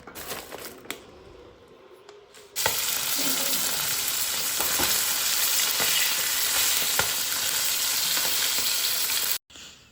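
Food goes into a generous amount of leftover oil from frying fish. After a quiet start, a loud, steady sizzle erupts suddenly and continues evenly before cutting off near the end.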